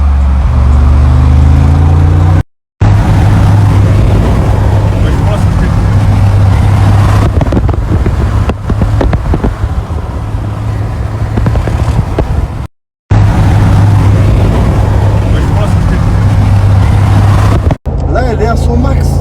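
A car cruises at about 120 km/h on a road, a loud, steady engine drone mixed with wind rush, broken by a few brief dropouts, while someone talks over it.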